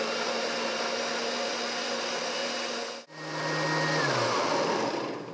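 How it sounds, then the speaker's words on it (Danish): A blender on its smoothie setting whirs loudly blending a green smoothie with apple juice, a steady motor drone that briefly cuts out near the middle, then restarts and shifts down in pitch. "Og så sætter vi låg på og indstiller den på blenderen på smoothie-funktion."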